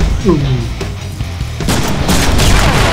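Gunfire in the Deadpool video game: dense, loud bursts of shots and rumbling impacts that build into a continuous, heavy barrage of blasts with game sound effects layered throughout.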